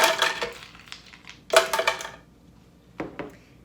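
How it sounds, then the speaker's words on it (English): Ice cubes for a spinach smoothie clatter into a container in a few short, hard bursts with gaps between, close and fairly loud. "The first thing we're going to add is our ice."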